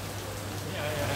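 Heavy rain pours down on a shop-lined street in Singapore as a steady, dense hiss that holds throughout and grows slightly louder toward the end.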